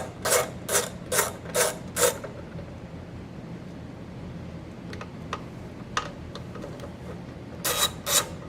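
A ratchet backs out 8 mm head screws from a plastic trim panel on a Briggs & Stratton 950 Series engine, with quick bursts of sharp rapid clicking at the start and end and a few isolated ticks between.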